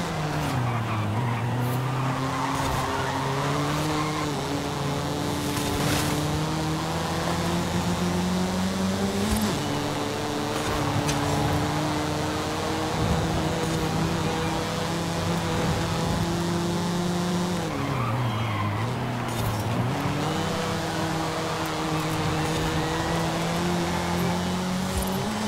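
Cars racing in Forza Horizon 5, engines droning continuously with rising and falling pitch as gears shift, tires squealing and skidding through corners, loud and dense throughout.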